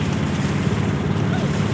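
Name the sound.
big waves hitting a fishing boat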